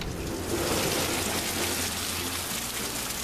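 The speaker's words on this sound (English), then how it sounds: "Guys, it is pouring." Heavy rain pouring outdoors, a dense continuous hiss of drops on surfaces, steady and fairly loud with no talk.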